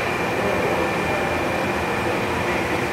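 A 40 ton Bruderer high speed press cycles its stroke, giving a steady, loud mechanical hum and whir that holds constant throughout without clear separate impacts.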